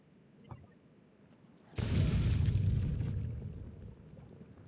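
A turret shooting in Factorio, a few faint clicks and then a sudden heavy blast that rumbles and slowly fades, loud and close.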